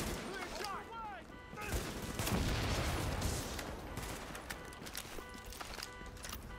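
Bursts of gunfire in the shooter game Tom Clancy's The Division, as a fight breaks out with rioters in the street, loud and dense in the middle and easing off toward the end, with faint voices around.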